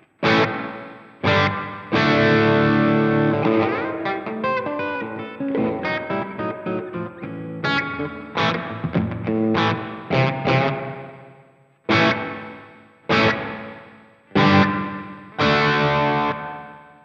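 An electric guitar runs through the spring reverb of a Sonicake Matribox 2 effects unit, fully wet and slightly distorted, with strummed chords and picked phrases ringing into a boingy wash and sharp stops between passages.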